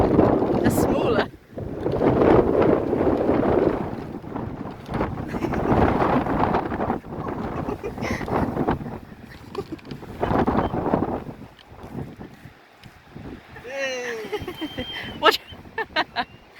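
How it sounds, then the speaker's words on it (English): Strong wind buffets the microphone on the South Downs coast near a lighthouse, coming in loud, roaring gusts that keep returning between spells of people talking and shouting. "It's still really windy"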